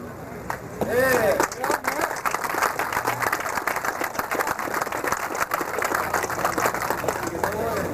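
A crowd at an off-road racing world championship applauds steadily, dense clapping sustained throughout at moderate loudness, with a brief whistle or cheer near the start.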